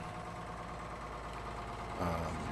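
A brand new Detroit 671 diesel engine in a bus idles with a steady low rumbling throb, close by, rising slightly in loudness near the end.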